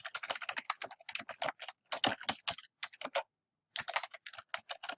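Typing on a computer keyboard, quick bursts of close, crisp key clicks with a short pause before the tapping resumes.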